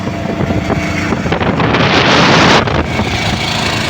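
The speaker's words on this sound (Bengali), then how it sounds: "এই যে লঞ্চগুলো বেরোচ্ছে দেখো, এগুলো হচ্ছে ট্রলার" Fishing trawlers head out from Shankarpur harbour with a steady, broad engine and water roar, loud and continuous, mixed with strong wind buffeting on the microphone and no voices.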